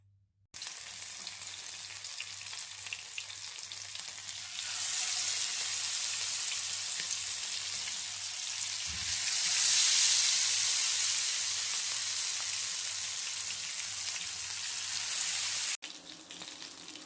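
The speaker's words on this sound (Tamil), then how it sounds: "இப்போ நம்ம மசாலா தடவி வச்சுருக்க மீனை அதில் போட்டு ஃப்ரை பண்ணி எடுத்துக்கலாம்." Masala-coated fish frying in hot oil in a pan, a steady loud sizzle that swells midway and holds for a long stretch, then cuts out abruptly near the end; no talking.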